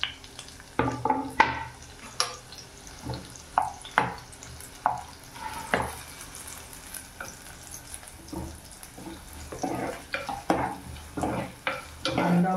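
Chopped onion sautés in oil with a green chili in a pan, a soft sizzle underneath repeated scraping and clattering stirs that come in irregular bursts, close and fairly loud, with no one speaking.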